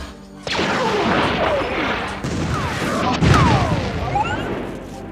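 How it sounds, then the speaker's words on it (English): Star Wars battle scene effects from Skywalker Sound: roaring spaceship flybys with swooping whooshes, booming explosions and blaster shots layered in a loud, busy mix with no talking. "You'll hear spaceships, explosions, and shots like that."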